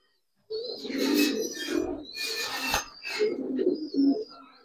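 Coarse, rolling coos from pure black Musallam pigeons, several bursts with brief pauses, fairly close and moderately loud, with some scratchy rubbing noise mixed in.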